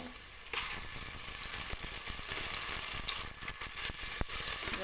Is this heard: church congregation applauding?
no